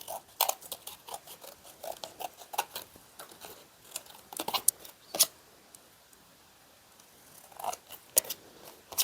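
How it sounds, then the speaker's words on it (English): Scissors snip through paper in quick, irregular crunching cuts, up close and fairly quiet, with short pauses between bursts. "I'm just going to use the scissors to cut."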